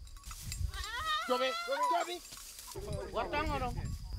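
Goat bleating before a ritual slaughter at a cleansing rite in a compound, a couple of wavering, strained bleats heard close with background voices and outdoor noise.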